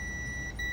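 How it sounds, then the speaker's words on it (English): A multimeter continuity test on a charger connector wire gives a steady electronic beep tone, held for under a second with a tiny break, close and clear. "you can hear a beep."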